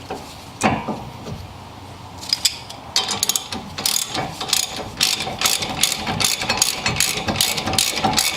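A hand ratchet clicks in quick repeated bursts while loosening the brake caliper bracket bolt on a Ford Freestyle's front brakes, close and clear with steady rhythmic pawl ticking.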